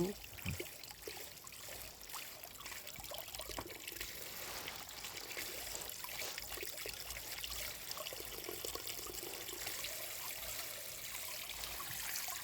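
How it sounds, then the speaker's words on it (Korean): Water trickling and dribbling close to the ear during a spa treatment, soft intimate splashes and drips over a quiet, steady background. "귓볼에 물을 받아서 물소리를 들려줍니다"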